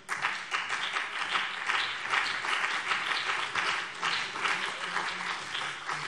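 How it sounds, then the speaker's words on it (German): Applause in the Hessian state parliament during a government statement, a sustained wash of many hands clapping at moderate distance, steady and even throughout. "Applaus"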